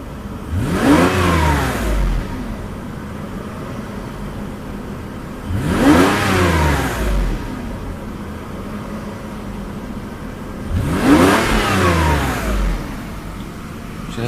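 A 1993 Mercedes 600SL V12 engine is revved with the gas pedal three times, each rise swelling quickly over a steady idle and dropping back, loud and close with no talk.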